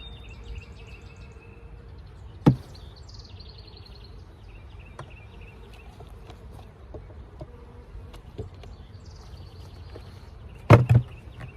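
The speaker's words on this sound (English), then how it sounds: "And this is bees out there." Honey bees buzz around hive splits being fed liquid feed, a faint steady hum of insects with occasional birdsong and a couple of sharp knocks from the hive equipment.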